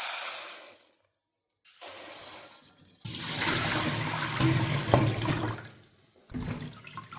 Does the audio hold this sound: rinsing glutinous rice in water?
yes